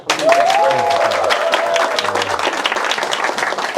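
A welcoming applause from a lecture audience greets a professor taking the microphone at a Korean study-club talk, steady dense clapping filling the room throughout, with a faint voice or tone drifting over it early on.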